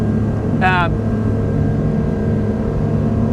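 Steady low rumble of a 2020 Fairline F33 motorboat's V8 engines running at speed, loud and continuous, with a brief higher chirp near the start.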